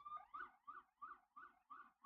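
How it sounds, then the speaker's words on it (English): A siren sound effect plays during a radio show, a faint, rhythmic wailing whoop repeating about every third of a second with no voices over it. "Sirens."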